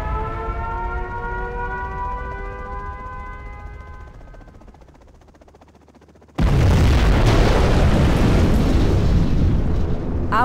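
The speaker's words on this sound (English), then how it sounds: "Launched our nuclear missile." A nuclear missile launches in Command & Conquer Generals Zero Hour: a rising siren-like wail fades away, then a sudden loud roaring blast of rushing noise holds steady to the end.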